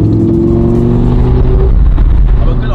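A supercar engine revs with its exhaust valves closed, a loud, close, sustained engine note that holds steady and then falls away as the revs drop.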